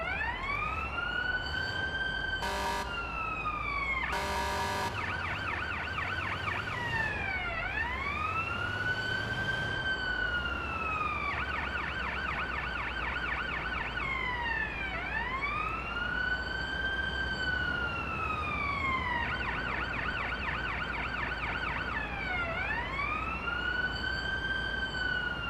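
An ambulance siren in a paramedic simulation game wails in repeating rising-and-falling sweeps, loud and steady throughout, with a few short rapid yelp bursts near the start over a low engine rumble.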